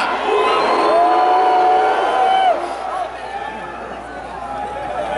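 Large outdoor concert crowd at the Gathering of the Juggalos 2023 during a set, roaring, cheering and whooping loudly and continuously, with one long shout standing out before the din eases slightly.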